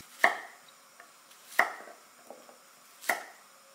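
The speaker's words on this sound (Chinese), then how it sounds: "切成滚刀块" A knife cuts celtuce and white radish into roll-cut chunks, making three sharp, evenly spaced chops on a board with faint lighter taps between them, close and clear in a quiet room.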